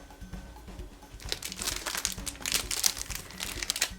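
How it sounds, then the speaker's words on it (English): Plastic wrap on a LaserDisc package (anime collection set) crinkles and crackles as it is handled, in close, irregular bursts that grow busier over the four seconds, with no talking. "So the plastic on this is a little bit crinkly, if that's the right word."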